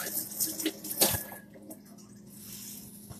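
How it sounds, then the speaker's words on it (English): Brief running water from a kitchen tap as hands are rinsed, with splashy bursts in the first second or so before settling into a quieter steady flow. "Give my hands a little bit of a wash again."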